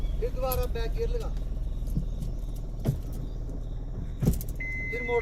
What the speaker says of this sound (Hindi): अब फिर दोबारा बैक गियर लगा,